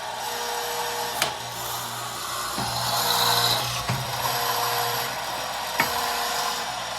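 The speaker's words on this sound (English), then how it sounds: "as I press the pedal, the clamp will come down and the drill bit will come in" A pedal-operated drill press bores into wood for a nightstand build, giving a steady mechanical rubbing whir with a few sharp knocks as the clamp and bit engage, close up and with no talk.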